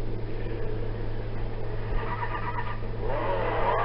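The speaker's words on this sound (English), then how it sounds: "You hear that car start up?" A car engine roars to life and revs in the Midnight Club LA video game, a steady loud motor drone that builds toward the end.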